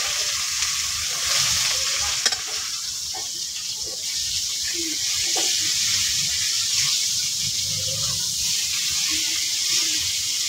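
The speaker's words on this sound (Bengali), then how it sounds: "আমার রসুনটা ভাজা হয়ে গেছে।" Garlic sizzles and crackles in hot oil in a pan as a steady, dense hiss that lasts throughout. A spoon stirs and scrapes now and then, and faint voices murmur in the background.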